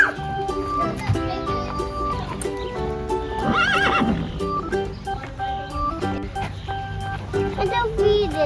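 A horse at a farm neighs amid a busy mix of other animal and background sound, with a burst of whinnying in the middle while people talk nearby.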